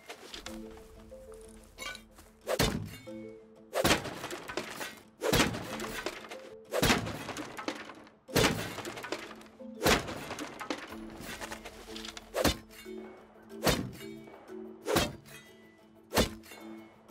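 Eco raid on a base in the survival game Rust: repeated heavy thunks of melee blows against a wall or door, about a dozen evenly spaced hits, loud and close over a low steady game tone.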